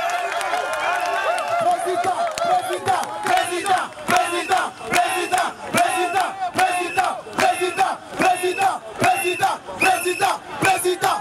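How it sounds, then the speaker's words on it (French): Crowd at a Paris demonstration cheering and applauding for the president, rhythmic chanting bursts rising and falling over clapping, loud and lively, with voices shouting throughout. "On applaudit le président"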